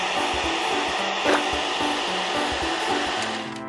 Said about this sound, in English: and vacuum